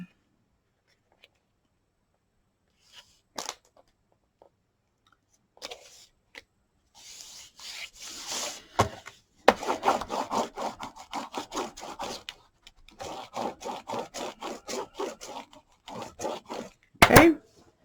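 Packaging crinkles while craft supplies for a gift box are handled, first as sparse soft rustles and then as steady bursts of crackling and crumpling close by, with no talking.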